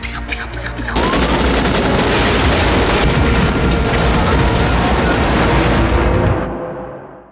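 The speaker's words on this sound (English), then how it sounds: "Guns." Heavy gunfire from an action film crackles in a dense, continuous burst mixed with booming blasts, loud and sustained for several seconds before dropping away.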